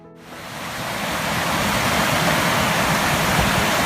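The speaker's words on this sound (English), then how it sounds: "Cedar Creek here runs through our farm." Cedar Creek, fed by spring water, flows through an Ozark farm as a steady, dense rushing wash of water that rises within the first second and stays loud and close, with no talk.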